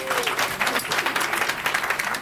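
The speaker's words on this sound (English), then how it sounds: "So give Joy a round of applause." Lively applause from the audience at a sold-out screening and panel event, many hands clapping in a dense, close, continuous patter.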